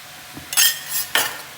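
Sweet rice being mixed in a pot for a village festival offering, with a few close scraping, stirring strokes of a spoon against the metal, two main bursts separated by short pauses, no talking.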